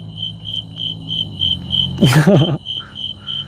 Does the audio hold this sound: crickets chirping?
yes